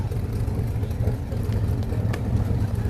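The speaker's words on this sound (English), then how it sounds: "As you can hear the mufflers rumbling" Antique trucks roll through a 2023 Christmas parade in Red Boiling Springs, their mufflers giving a steady, close, low engine rumble that holds for the whole stretch with no break.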